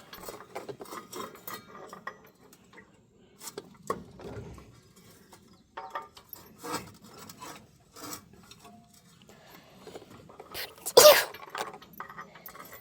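After a stretch of quiet rasping and rubbing during disc replacement on a John Deere Model B grain drill, a single sharp sneeze bursts out close by near the end.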